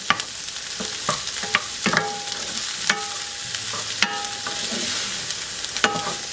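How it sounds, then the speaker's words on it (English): Mini sweet peppers with flattened garlic cloves fry in oil, giving a continuous close sizzle broken by frequent sharp spatula clinks and scrapes as they are stirred around the pan. "Stir them around so they're all coated in the oil."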